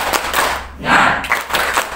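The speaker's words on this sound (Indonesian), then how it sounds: "Tepuk semangat." A group of teachers at a workshop does a rhythmic 'tepuk semangat' spirit clap, with close, loud bursts of clapping in a short patterned sequence.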